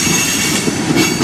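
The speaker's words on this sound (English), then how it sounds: "Sounds like every single brake is on. I've never heard this on a train before." A CSX freight train led by an ES44AC-H locomotive rolls past with its brakes applied along the whole train, giving a loud, continuous roar and grinding squeal of wheels on rail that stays steady and close throughout, with no voices.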